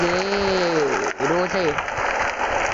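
Steady rain hisses across a Bus Simulator game scene, a dense even wash of noise that continues under a voice speaking briefly.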